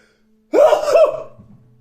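A single close, loud sneeze bursts out abruptly with a voiced, throaty edge and then fades, alone against near silence.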